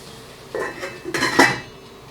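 A metal lid set back onto a cooking pot during stovetop cooking, giving a close clatter, then a second louder rattling clank as it settles, followed by quiet.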